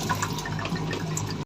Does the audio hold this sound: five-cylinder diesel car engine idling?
no